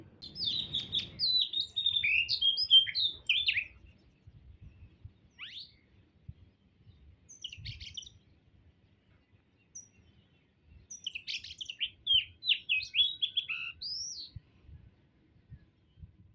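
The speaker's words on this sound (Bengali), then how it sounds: "সকালের মিষ্টি আবহাওয়ার সাথে কিন্তু পাখির মিষ্টি একটা কিচির মিচির আওয়াজও ছিল" Birds chirp and twitter in the morning in bright, quick bursts, with a busy stretch at the start, scattered calls in the middle and another lively flurry near the end, over a quiet background.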